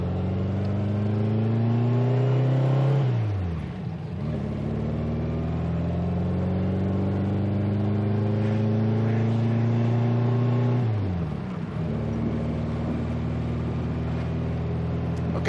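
A 1966 Volkswagen Beetle with a 4-speed manual pulls away through the gears, its air-cooled engine note rising loud and close, dropping at a shift, then climbing again before another shift.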